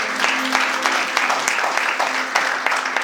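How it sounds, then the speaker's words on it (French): A church congregation applauding for the Lord, dense continuous clapping from many hands filling the room, with a faint voice underneath. "peux acclamer mieux que ça pour le Seigneur."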